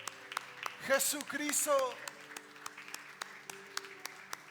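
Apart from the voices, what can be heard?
church congregation applauding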